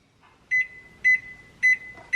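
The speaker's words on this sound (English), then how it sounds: "Stick it in the microwave." A microwave oven crisping bread for two minutes gives a fairly close, steady electronic tone punctuated by short bright beeps that repeat roughly every half second.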